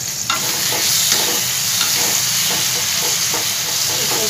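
Soft tomatoes in a tomato masala for dal are mashed and stirred in a hot pan, giving a continuous loud sizzle with repeated scraping stirring strokes close by.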